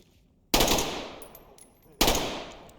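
Gunfire in the tactical shooter game Ready or Not, heard as two loud, close, sharp blasts roughly a second and a half apart, each trailing off into a long echoing tail, with faint beeps between them.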